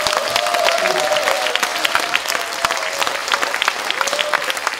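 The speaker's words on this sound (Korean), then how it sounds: "정남 씨 박수 받으시기 바랍니다." Steady applause from an audience at a Korean jaedam sori storytelling-song recital, dense and sustained for several seconds, with faint voices and a few sharp claps standing out above the crowd.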